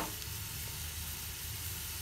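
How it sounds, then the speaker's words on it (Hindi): Steady sizzling of spices tempering in hot oil for saag, a continuous crackling hiss with no voices, close and even throughout. "इसमें तड़का लगा देंगे"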